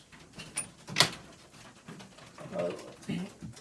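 Racing pigeon cocks in a South African loft give soft, low cooing calls in scattered bursts, with a sharper clatter partway through and someone talking over them.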